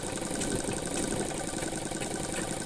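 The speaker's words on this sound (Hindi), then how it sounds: "इस पर डबल सिलाई कर देते हैं" A sewing machine running a second line of double stitching on a pair of pants, a dense continuous motor drone with a fast rapid hum that stays steady throughout, close by and alone.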